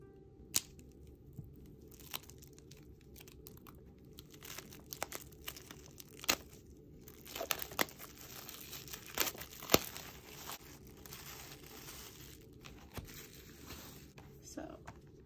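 Plastic wrap is peeled off a K-pop mini album, giving faint crinkling and tearing rustles in scattered bursts close to the mic, quiet overall.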